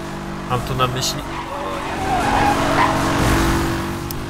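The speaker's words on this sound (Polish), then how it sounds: "Dźwięk silnika Bugatti Veyrona." Bugatti Veyron engine in Need for Speed Hot Pursuit 2010, a sustained engine drone with tire squeal rising and swelling, heard under someone talking.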